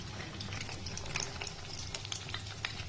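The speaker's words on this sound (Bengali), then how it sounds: "এটা ছানার কোফতা, বড়া ভাজা হচ্ছে, ছানার বড়া।" Chhana (cottage cheese) kofta balls, the fried dumplings for a potato kofta curry, sizzle in hot oil with steady crackling and popping, close and continuous for a few seconds with no talk.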